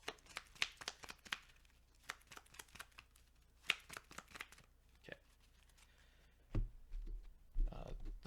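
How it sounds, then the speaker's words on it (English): A deck of Vanguard trading cards is shuffled by hand in soft, irregular bursts of quick riffling clicks, close and quiet, followed by a couple of duller handling thuds near the end. "Okay, and then I will shuffle."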